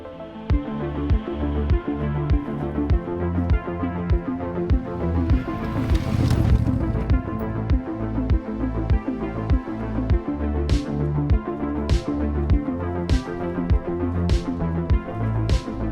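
A CFMoto 450MT Ibex motorcycle cruises steadily at 6,000 RPM and 65 mph, a continuous, close engine drone with rich harmonics, wind rush and a faintly pulsing rhythm throughout.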